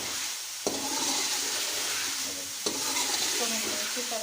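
Chicken and potatoes frying in a pan give a loud, steady close sizzle, broken by a couple of sharp knocks from stirring, with no talking.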